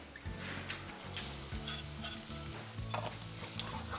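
Onions and garlic sizzle in a pan for a date and chickpea tagine, a continuous close frying hiss broken by a few stirring scrapes, with no voices.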